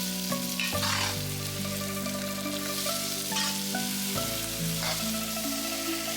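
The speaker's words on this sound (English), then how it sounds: "Continue folding and gently stirring until the eggs are fully set and the onions have softened." Shrimp, onion and scallion egg scramble sizzles steadily in a pan while being folded and stirred, a continuous close frying hiss with light scraping, no voices.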